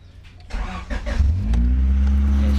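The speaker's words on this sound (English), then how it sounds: "Okay, start the engine, gentlemen." A car engine cranks and catches, then revs up into a steady, loud running drone, close by, with no talk.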